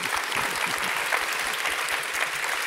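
A seated-then-standing audience at a summit gives sustained, dense applause, many hands clapping together at an even, fairly loud level with no break.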